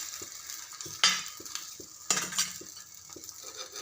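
Egg omelette mixture on a hot griddle with a little oil, a faint low sizzle with rhythmic spatula taps and two louder scraping spreads against the metal, and no talking.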